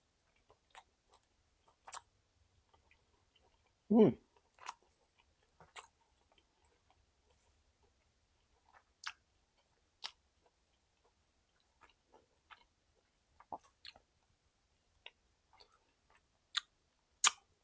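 Someone chewing barbecue baby back ribs while tasting them, soft sporadic moist clicks and mouth sounds, close and quiet, scattered irregularly with one louder thump early on.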